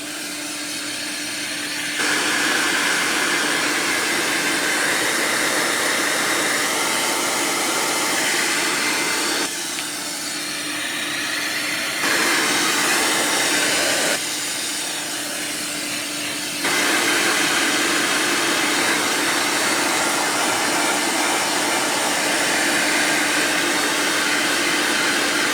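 A hair dryer runs steadily and loudly, drying black acrylic paint on a wood round, with a continuous whooshing roar and brief shifts in tone as the airflow is moved.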